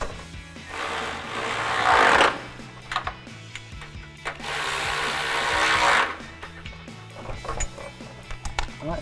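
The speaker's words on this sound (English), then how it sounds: "we can grab our ratchet with our extension with our 10mm socket and tighten them down" A ratchet with an extension and 10mm socket tightens nuts during a 2005-2009 Mustang headlight install, giving two sustained, fairly loud bursts of rapid mechanical clicking and rubbing separated by quieter handling noises.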